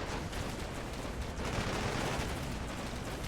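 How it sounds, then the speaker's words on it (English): Dense, continuous gunfire from a chaotic battle in the video game ERA ONE, a steady loud crackle of many overlapping shots with no pauses. "there's a lot of bullets flying around here"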